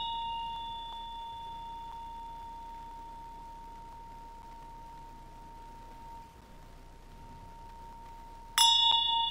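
A single bell rings with a steady, sustained tone over a quiet, hissy room background during a Buddhist meditation teaching in a temple, and a sharp fresh strike comes near the end.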